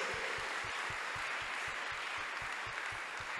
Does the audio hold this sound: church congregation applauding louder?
yes